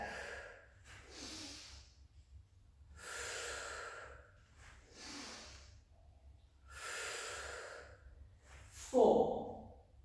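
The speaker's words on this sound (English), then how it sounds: "So as we come up, we breathe in to open," Deep breathing during a Pilates exercise, slow audible inhales and forceful exhales repeating in a rhythmic cycle, close and clear with a brief sharp puff near the end.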